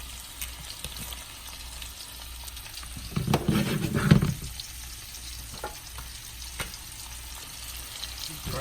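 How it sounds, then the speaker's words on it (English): Mushrooms sautéing in melted butter in a pan, a soft steady sizzle that swells into a brief louder burst of stirring and crackle midway, then settles back. "I'm gonna saute my mushrooms"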